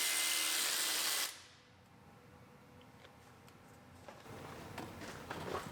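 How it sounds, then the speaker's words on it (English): A power tool tightens a bolt on a damaged 2014 Chevy Cruze engine. A loud, harsh whirring burst lasts just over a second and then cuts off, leaving faint clicks and light handling noises close by. "tighten up one last bolt down here that I forgot about"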